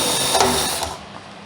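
A drill boring pilot holes for rivets in a metal hinge beside a wheel motor cover, a steady close whirring grind with a slight surge midway and no talk.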